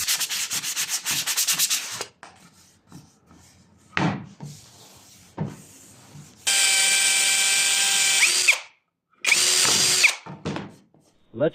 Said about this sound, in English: Let's drill a hole near the edge with a 4 mm or about 5/32 inch drill bit